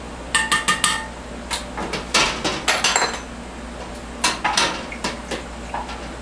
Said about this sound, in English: In the jar, stir it up.